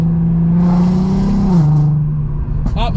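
A Volkswagen Golf R MK7 tuned to Stage 2 revs its engine, a strong droning tone climbing and then dropping as the gear shifts, ending with a quick blip and crackle, close and loud.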